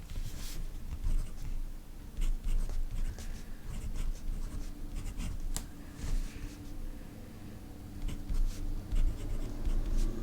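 A fountain pen with a custom-ground Techo-style nib scratches across paper in continuous strokes, close and soft, with faint rustling and no talking.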